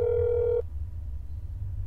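In the That's Not My Neighbor video game, a telephone dial tone sounds as a steady electronic tone for about half a second before cutting off abruptly, leaving quiet line hiss.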